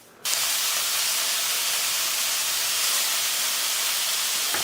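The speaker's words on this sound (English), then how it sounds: "We'll just give the beef a little sear here that brings up more flavor." Beef brisket hits a hot pan with a sudden loud hiss, then sears in a dense, steady sizzle that holds close and strong to the end, no talk.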